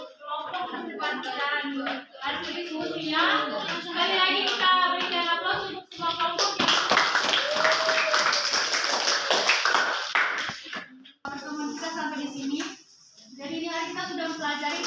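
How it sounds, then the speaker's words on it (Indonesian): Classroom applause from students in a lesson on the respiratory system, a broad wash of clapping hands filling the middle stretch, with children and a teacher talking before and after it. "Sekali lagi kita berikan aplaus untuk semua"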